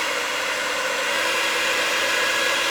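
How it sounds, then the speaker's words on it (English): An iTeraCare frequency wand switched on gives a steady, broad airy hum like a hairdryer, constant and fairly loud throughout with no talk over it. "So it sounds like a hairdryer when you put it on"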